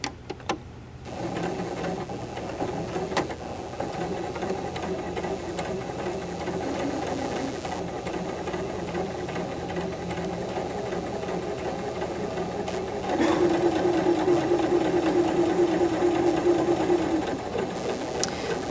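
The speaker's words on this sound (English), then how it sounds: "When sewing your garment or 2 pieces of fabric together, straight stitching is essential" Sewing machine running a straight stitch joining two pieces of fabric, a continuous close mechanical whir and rapid needle patter that holds steady throughout and grows slightly louder and higher near the end.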